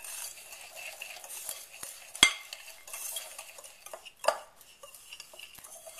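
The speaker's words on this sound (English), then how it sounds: "our 3 tablespoons of cornstarch together in a big bowl. And you just whisk it." Egg yolks, sugar and cornstarch whisked together in a big bowl, giving a quiet, steady scraping and stirring with two sharper clinks of the whisk against the bowl; no voices.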